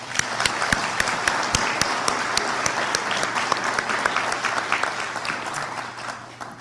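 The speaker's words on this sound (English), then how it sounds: "So, another clap for Heidi." An audience at the University of Maine at Machias 2023 commencement gives sustained applause, a loud, dense crowd clapping with distinct sharp individual claps popping out, tapering slightly near the end.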